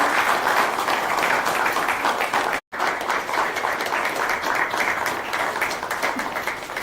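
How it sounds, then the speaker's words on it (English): Sustained applause from a crowd at an awards ceremony in Chennai, dense and steady throughout, with a brief gap partway before the clapping resumes just as strongly. "Please applaud for the other two finalists while we present them a certificate."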